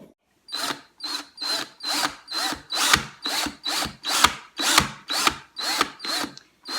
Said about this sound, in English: we're gonna drill one more time